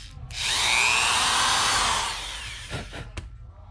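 A power drill bores a hole through a small part for a brush-cutter throttle cable, whining steadily for about two seconds up close, then winding down into a few brief bumps and clicks.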